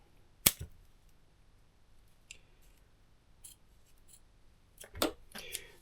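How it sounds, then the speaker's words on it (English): Sharp scissors cutting away waste material while a Bible is restored, a crisp snip near the start, a few faint clicks, then a closer cluster of cuts toward the end, in a quiet room. "sharp scissors"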